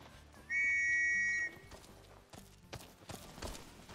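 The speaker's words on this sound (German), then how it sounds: "Eine Pfeife, mit der man seinen Meat-Chocobo rufen kann" A chocobo whistle in Final Fantasy XV sounds one sharp, steady tone lasting about a second, followed by hurried clip-clopping footsteps as the bird arrives.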